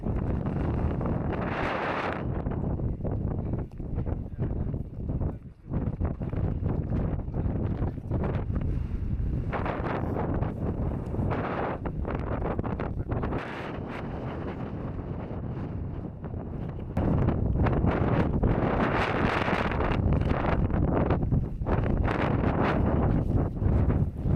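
Strong wind roars across a microphone on the Beacons Way hiking trail, a loud, continuous buffeting rumble that swells and gusts throughout with no talking.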